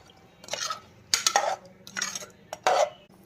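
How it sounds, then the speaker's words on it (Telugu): A spoon scrapes and clatters around a metal pot of mutton curry after water is added, in four quick bursts, stirring with short pauses between strokes, close and fairly loud. "ఒకసారి వాటర్ అంతా అందులో కలిసినట్టు బాగా కలుపుకుందాం"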